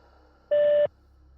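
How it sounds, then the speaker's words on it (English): A voicemail message tone on a phone call: a single clean electronic beep of steady pitch lasting about a third of a second, loud against a quiet line hum. "Please leave a message after the tone."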